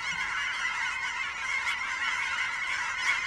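A large flock of geese honks continuously, a dense, steady chorus of bird calls with no talking.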